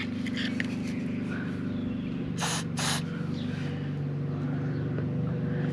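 GT85 lubricant sprayed into a VW T4 van door lock: two short, hissing aerosol bursts in quick succession, close by, over a steady low background hum.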